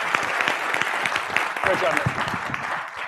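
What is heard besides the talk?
audience applause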